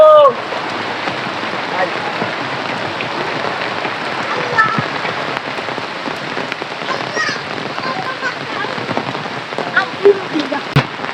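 Steady rain patters densely on a tin roof nearby, a constant drumming wash with occasional louder drops, continuing unbroken throughout.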